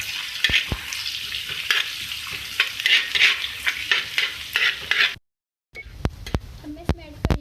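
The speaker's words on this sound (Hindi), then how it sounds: "इसी तवे में मैंने ऑयल ऐड किया और मैं इसमें ऐड कर रही हूँ जो मेरे पास चॉप्ड जिंजर और गार्लिक था" Chopped ginger and garlic sizzle loudly in oil on a tawa for spicy tawa aloo, with scraping stirs and spoon clinks, a brief dropout, then quieter sizzling with taps.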